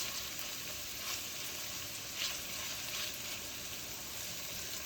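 Garlic shrimp fry in a pan, a faint, steady sizzle with soft, occasional stirring scrapes, heard close and without any talking.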